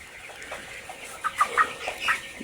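A farm chicken wounded in a fox attack clucks in several short, sharp bursts. The bursts come in the second half of the clip over a quiet, hissy background, with no talking.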